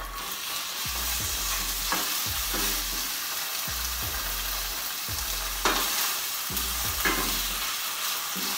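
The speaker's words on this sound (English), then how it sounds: "put in our ginger paste. Throw in the bacon." Bacon and ginger paste fry in a pan with a constant close sizzle, broken by a series of regular spatula scrapes and stirring knocks, without any voices.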